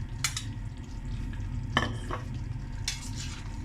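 A cream and yogurt mixture for mutton korma is stirred and fried in a pot, giving a steady low sizzle with a few scraping strokes, close and without talk.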